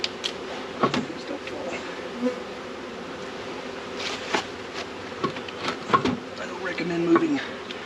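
Swarming honey bees hum densely around an 8-frame hive, a continuous close buzz with occasional taps and knocks as the boxes are moved.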